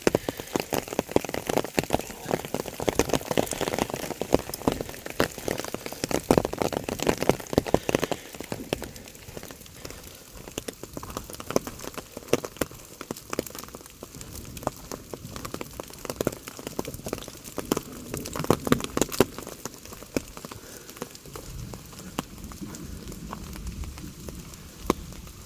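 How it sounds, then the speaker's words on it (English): Hail pattering on an umbrella overhead on a mountain summit trail in Pine Valley, Utah, a dense steady crackling patter close to the listener, heavier in the first half and then thinning out. "Oh, it decided to even hail on me."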